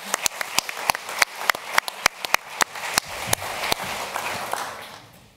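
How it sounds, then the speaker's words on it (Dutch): Warm audience applause for a guest introduced as a Zen teacher at a talk on psychedelics, starting as sharp, distinct claps that quickly thicken into a dense, steady wash of clapping that gradually fades. "Mag ik een hartelijk applaus?"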